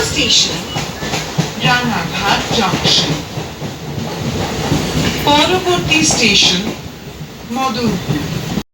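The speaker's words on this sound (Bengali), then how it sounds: "ট্রেনটি ভালো গতিবেগে ছুটছে" A train rumbles and clatters steadily along the tracks between Kalyani and Madanpur while a person talks over the noise.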